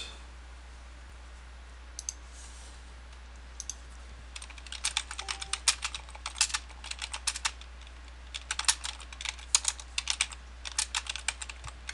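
Faint typing on a computer keyboard, scattered keystrokes at first that build into quick irregular bursts of clicking over a low steady hum.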